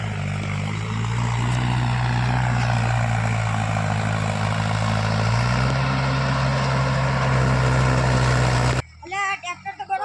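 A tractor engine runs in a farm field with a loud, steady, throbbing drone that holds for most of the time. It cuts off abruptly near the end, where brief voices are heard.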